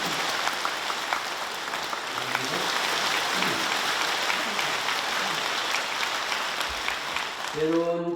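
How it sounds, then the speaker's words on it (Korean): A congregation at a Buddhist temple anniversary service applauds in a sustained, dense burst of clapping, with a brief voice or tone emerging near the end as the clapping fades. "박수로 축하드리고요."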